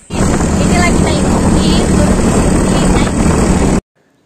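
A motorbike carries a family along a road on a trip back to their home village, its steady engine and wind roar loud and continuous for nearly four seconds before cutting off abruptly.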